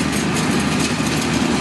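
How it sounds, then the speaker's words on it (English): A farm tractor engine out in the country, a loud, steady close rumble that fills the whole stretch without breaks. "What you're hearing right now is a farm tractor going by."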